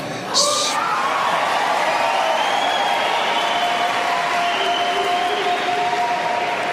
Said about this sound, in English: Waiting for the applause, Speaker Gingrich.